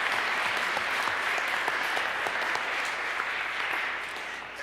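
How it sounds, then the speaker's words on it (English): Audience at an annual meeting clapping, a dense, continuous round of applause from many hands that holds steady and then fades slightly near the end. "Please join me with a round of applause for Tim Wilkins."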